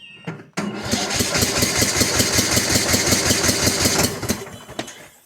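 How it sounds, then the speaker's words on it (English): The Kohler Courage engine on a Cub Cadet LTX 1045 riding mower, which is losing power, cranks and sputters into a rough, pulsing run with rhythmic popping, loud and close, before cutting out after about four seconds. "Yeah, we're getting some backfiring."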